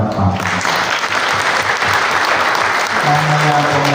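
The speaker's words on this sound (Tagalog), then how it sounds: "Ibigyan natin si Robert at Celine ng isang masigabong palakpak." Wedding guests at Robert and Celine's ceremony applaud the newly married couple, a steady, dense round of clapping that holds evenly throughout, with a voice and faint tones joining near the end.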